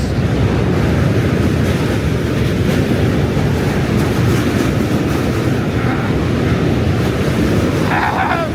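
A loud, continuous rumbling roar of a train rolling past very close, with wind buffeting and clattering wheels throughout.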